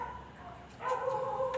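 A dog barks and yips a few times, faint and somewhat distant, over a quiet background with no talking.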